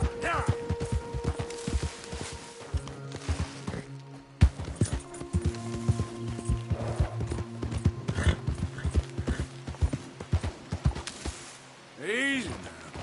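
A horse in Red Dead Redemption 2 clip-clops along in a fast, steady hoof rhythm. A voice urges it on over the hooves, and a short whinny-like sound comes near the end.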